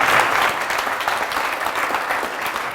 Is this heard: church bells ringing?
no